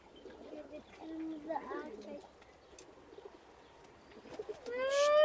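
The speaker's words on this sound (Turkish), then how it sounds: "Köşedeki kırmızı erkek ötüyor." Male racing pigeon cooing softly in a loft among other birds, low throaty coos repeating under faint background noise, with a brief brighter chirp near the end.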